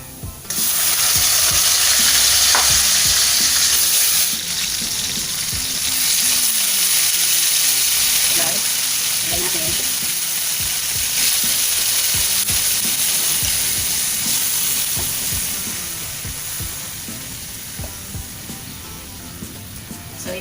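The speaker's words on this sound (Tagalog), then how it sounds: "ilalagay na natin yung marinated chicken natin" Marinated chicken adobo sizzling loudly in a hot pan while being stirred, a constant bright hiss with scraping stirs that gradually settles quieter toward the end.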